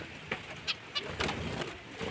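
Small red-beaked finches in an indoor bird room give a few short, soft calls at close range, spaced irregularly over a quiet background.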